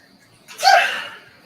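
A single sudden sneeze bursts out at close range after a quiet moment, loud and sharp, then trails off over about half a second.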